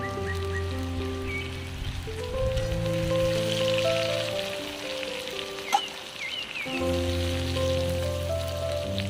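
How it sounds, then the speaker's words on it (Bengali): Pieces of young jackfruit frying in hot oil, a dense continuous sizzle and crackle close up that dips briefly in the middle, with a steady tonal hum underneath. "তো এঁচড়টা আমার ভাজা হয়ে গেছে লাল লাল করে"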